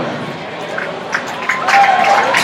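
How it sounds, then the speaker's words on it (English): An audience applauds the winner of an auctioneer contest at a Little International livestock show. Scattered clapping and crowd noise swell toward the end over continuous background murmur. "Let's give him a round of applause."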